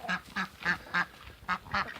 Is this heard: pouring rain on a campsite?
no